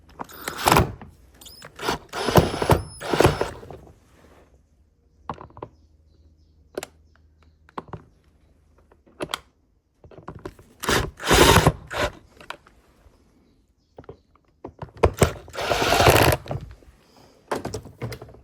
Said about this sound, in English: Once your clips are on, don't forget to tighten your screws here.